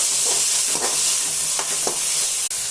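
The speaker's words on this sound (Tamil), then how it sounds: "2 பச்சை மிளகாய், நறுக்கி வச்ச வெங்காயம், கொஞ்சமாக கறிவேப்பிலை, 1 மணி நேரமாக ஊற வச்ச பாசிப்பருப்பு நல்லா வதக்கிக்கலாம்" Green chillies, chopped onion, curry leaves and soaked moong dal sauté in a hot pan for beetroot poriyal, a loud constant hiss with a few soft scrapes of stirring and one brief click near the end.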